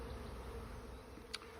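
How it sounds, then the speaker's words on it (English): Honey bees from a hive that has just swarmed give off a steady, low insect hum that carries through the whole stretch, with one brief sharp click near the end and no voices. "My bees just swarmed"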